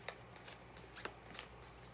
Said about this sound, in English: I'm just going to go ahead and shuffle you all in